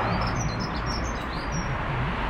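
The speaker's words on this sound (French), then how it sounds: "Avec le petit bruit de l'oiseau qui vient contrer un peu cette..." A small bird chirps outdoors in a repeated series of short, high tweets over steady wind or ambient outdoor noise, with no talking.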